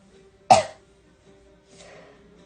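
One person gives a single sharp, close cough during a live oil-painting session, followed by a softer, fainter cough or throat clear a moment later, in an otherwise quiet room.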